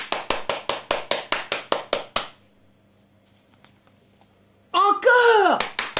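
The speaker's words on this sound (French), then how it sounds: "On applaudit!" Children clap together at a picture-book reading, about a dozen sharp, evenly spaced claps in a quick run, then a pause before excited voices and more clapping at the end.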